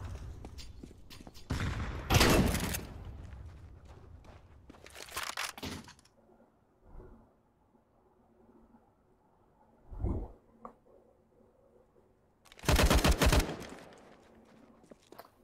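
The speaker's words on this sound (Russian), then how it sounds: "А чё за стрельба, блин?" Bursts of gunfire in CS:GO come in several loud clusters of rapid shots separated by quieter stretches with faint footsteps and small clicks.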